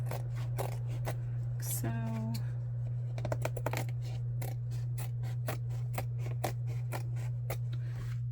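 Scissors snip along a glued paper journal cover, a quick run of crisp close cuts over a steady electrical hum, with a brief spoken word near the start.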